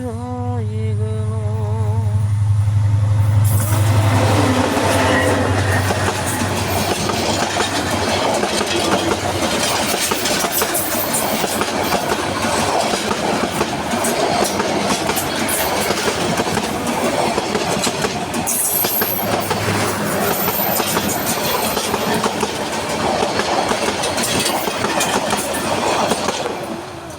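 A train rumbles past at close range, starting with a low engine hum and building into a loud, continuous rattle and clatter of rail cars that carries on for nearly half a minute.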